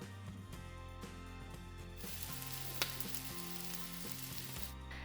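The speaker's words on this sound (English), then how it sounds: "Fry for a couple more minutes." Pre-boiled potatoes fry in a pan with a soft, quiet sizzle that swells partway through, heard beneath background music with steady tones.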